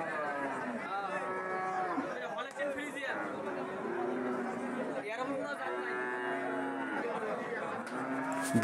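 Black-and-white Friesian cows lowing at a busy Eid cattle market in Badarganj, Rangpur, several drawn-out moos mixed with constant crowd chatter and nearby talk.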